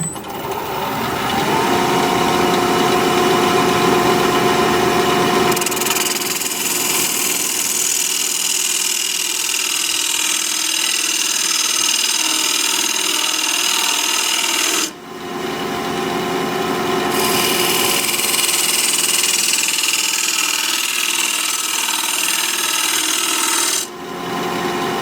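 Wood lathe turning a curly maple bowl at 1200 RPM with a bowl gouge, a loud, close, continuous scraping and hissing cut that breaks off briefly twice before resuming, with no talking.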